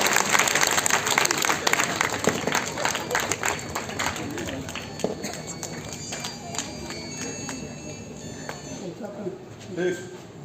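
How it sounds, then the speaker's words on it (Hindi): Applause for guests at a college event in Darbhanga, a crowd clapping loudly and continuously before easing off, with voices talking over it. "जोरदार तालियां हो जाए"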